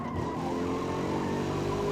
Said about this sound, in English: That was me panic braking because I felt the car was